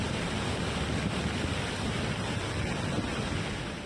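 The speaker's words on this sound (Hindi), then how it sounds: "सैलाब घरों के बीच से ऐसे गुजरा जैसे कोई दरिया बह रहा हो।" Flash floodwater rushes between houses in Mandi, carrying hillside debris during torrential rain: a loud, steady, broadband roar that fills the whole clip without pause and with no voices.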